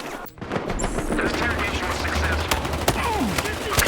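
Rapid bursts of automatic gunfire in a Battlefield video game rattle continuously over a dense background of game noise, with occasional sharper single shots standing out.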